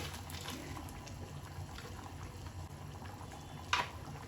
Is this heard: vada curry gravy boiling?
yes